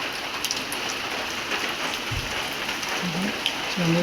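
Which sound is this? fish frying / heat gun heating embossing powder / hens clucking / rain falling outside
rain falling outside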